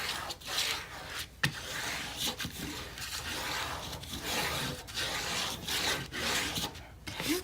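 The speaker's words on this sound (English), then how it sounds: "And burnish that really well." Steady dry rubbing and rasping of a burnishing tool pressed over paper on a spring farmhouse mini album, continuous strokes with brief pauses, close and fairly loud with no talk.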